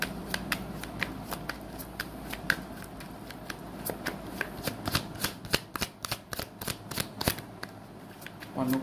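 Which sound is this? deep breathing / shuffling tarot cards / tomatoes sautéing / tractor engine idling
shuffling tarot cards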